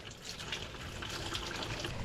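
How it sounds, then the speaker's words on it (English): Tap water runs steadily into a bottle in Kosovo, splashing and gurgling as it fills, close and moderately quiet with no talking. "we're gonna fill it up with some pipe water"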